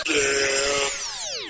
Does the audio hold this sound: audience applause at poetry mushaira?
no